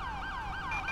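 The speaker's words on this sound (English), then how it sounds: "Can someone turn off my siren" A police car siren from GTA 5 with the LSPDFR mod wails in fast rising and falling sweeps, loud and close over a low engine rumble, with no one talking.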